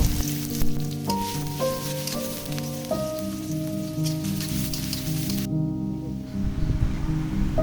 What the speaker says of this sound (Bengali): কড়াইতে তেল দিয়ে পেঁয়াজটা ভেজে নিব।